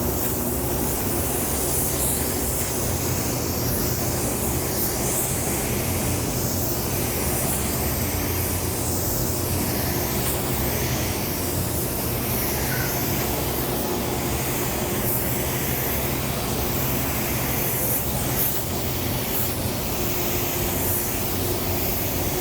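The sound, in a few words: spray gun spraying paint in booth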